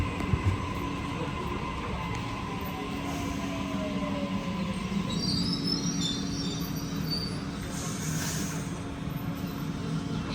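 A Sydney Trains passenger train runs along the South West Rail Link, a steady interior rumble of wheels and motors with a faint squeal drifting in and brief high screeches, continuous and moderately loud, with no talking.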